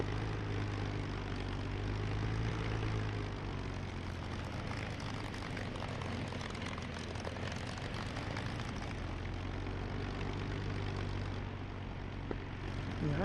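Steady droning propeller engine of a P-51 Mustang taxiing in the flight simulator DCS World, a constant low throbbing rumble held at moderate level throughout.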